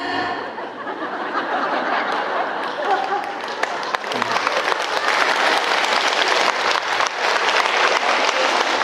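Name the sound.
church congregation applauding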